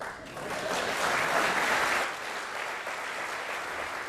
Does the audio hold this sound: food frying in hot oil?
no